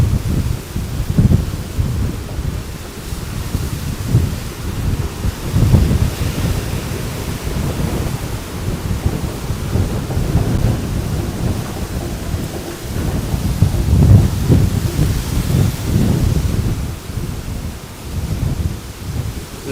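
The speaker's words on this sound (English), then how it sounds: "Look at how windy it is." Strong gusty wind roars through Miami ahead of Hurricane Milton, a loud, continuous low rush battering the microphone in surging waves, with no voices.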